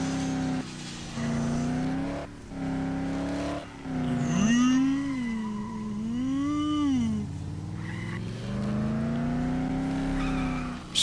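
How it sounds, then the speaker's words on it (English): Car driven in the zombie game Dead Island, engine whining and revving up and down in pitch with a couple of short breaks, loud and close, with brief tire-squeal textures. "Our first driving session."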